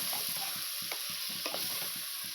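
Chili powder masala fries in a pan for a spicy Kannada chicken curry, with a constant close sizzle under quick, evenly repeated spatula scrapes.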